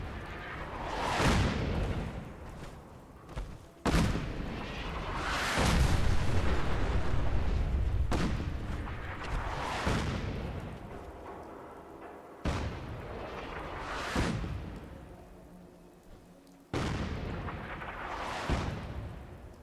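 Heavy artillery from Fallout 4 booms in a series of about five loud, close blasts, each a sharp crack swelling into a long rumbling roar that fades before the next shot.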